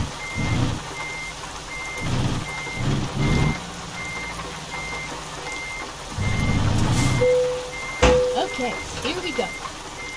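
Reversing beeps from a truck in American Truck Simulator sound as a steady, evenly spaced series of high tones. A low engine rumble swells and fades beneath them while someone speaks briefly.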